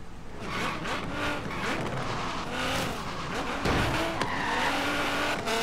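Car in Forza Horizon 4 braking hard into a corner, tires squealing and skidding over a steady engine roar, loud and continuous with a brief harsher burst midway.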